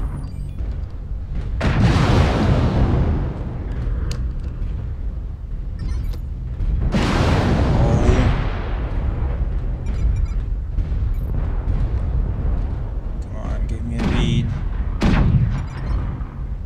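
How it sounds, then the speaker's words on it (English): Incoming missiles burst around a Catapult CPLT-C1 mech in MechWarrior Online on the Forest Colony map, producing three heavy booming explosions with rumbling decays spaced several seconds apart, loud and close. "Warning, incoming missile."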